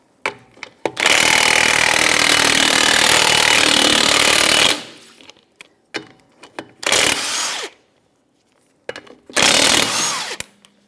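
Lug nuts come off the rear wheel of a 2007-2012 Nissan Versa with a 21mm socket on an impact wrench, one long loud rattling burst of about four seconds, then two shorter bursts with quiet clicks between.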